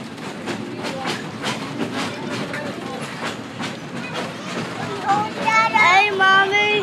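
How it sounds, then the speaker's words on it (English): Steady rhythmic clickety-clack of Big South Fork Railway train wheels on rails with a continuous rumble, heard close by from aboard, as someone talks over it. "we're on the train, and I'm having a great time"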